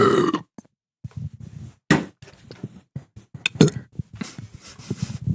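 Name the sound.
burp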